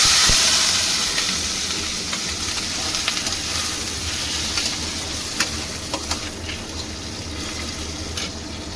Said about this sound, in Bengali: একটু হলুদ আর একটু নুন লাগিয়ে আমি চিংড়ি মাছটা ভাজবো।